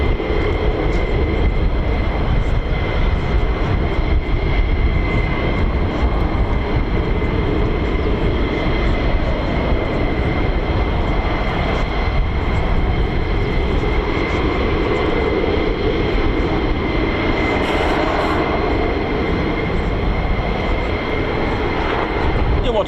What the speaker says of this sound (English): Here come more F-15E Strike Eagles as well.